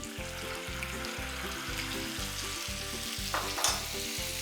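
Green chillies sizzling in hot oil for a vaghar tempering, made while preparing khaman and dabeli: a steady close frying hiss with a faint rhythmic knocking underneath and a brief sharper crackle near the end.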